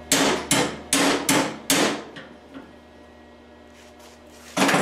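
Hammer striking a go kart part during a rebuild in a workshop, five loud, close, evenly spaced blows followed by a quiet pause and one more hit at the end.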